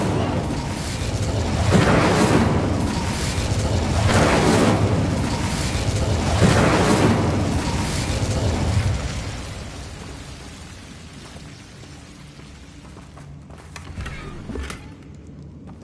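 An Incendio fire spell cast in Hogwarts Legacy, with several roaring, whooshing flame bursts swelling and fading in a slow rhythm before dying down to a quieter backdrop with a faint late flare.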